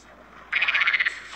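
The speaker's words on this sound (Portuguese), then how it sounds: "O que o sapo tá fazendo?" A frog croaking in the Minecraft Terracotta Expansion addon: a single rapid, rattling burst of about ten pulses lasting under a second, clear and close over faint game ambience.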